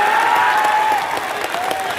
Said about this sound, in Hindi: अरे दबा के ताली बजाओ